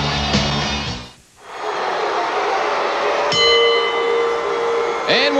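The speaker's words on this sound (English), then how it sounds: "The bell has just sounded." Wrestling ring bell at a televised WCW Saturday Night match, ringing out with bright lingering metallic tones over a loud, steady arena crowd roar.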